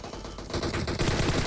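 Rapid bursts of gunfire in PUBG Mobile, a dense crackling volley that grows louder partway through and keeps going steadily to the end.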